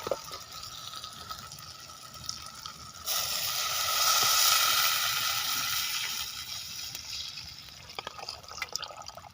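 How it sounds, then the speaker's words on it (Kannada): Water pours steadily into a pot of goat leg (mutton paya) soup for a few seconds, a rising hiss of filling liquid with light drips and kitchen clatter before and after. "ಈಗ ಇದಕ್ಕೆ ನಾವು ನೀರನ್ನು ಹಾಕ್ಕೊಳ್ಬೇಕು"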